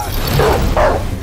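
A cartoon dog in an animated action scene gives two short yipping barks close up, with a steady low hum running underneath.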